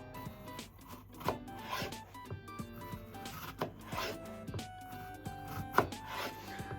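A knife cutting bitter gourd into diagonal slices on a board: faint, scattered cutting strokes with a few sharper taps, quiet and close, with no talking.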